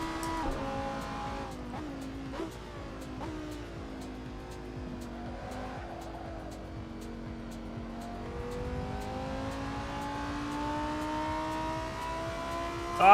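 A Lamborghini Gallardo races in the Assetto Corsa simulator, its engine droning and rising through gears in long sweeping pitches, with repeated sharp tire squeals and skids, loud and continuous.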